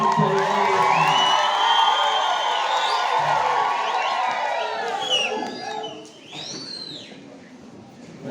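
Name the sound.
crowd applauding and ululating at church thanksgiving mass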